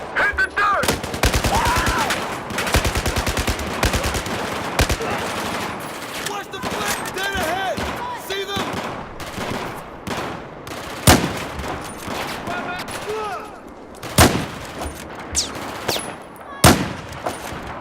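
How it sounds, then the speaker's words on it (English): Battlefield 4 campaign combat in the Tashgar mission: dense, close bursts of automatic gunfire crackle through, with sharp louder single shots punctuating the later stretch and a voice talking over the action. "I'm going to hang back here out the way of that gunfire."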